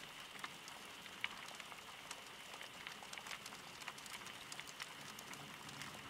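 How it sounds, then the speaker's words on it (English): Soft, steady rain patters against the window of a forest cabin. The continuous drizzle is faint, with scattered louder droplet taps and no voices. "And you can hear the sound of the rain on the window."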